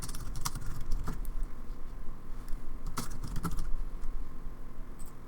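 Close, clear clicks on a computer keyboard come in irregular bursts and pauses, some keys struck harder than others, with no talking.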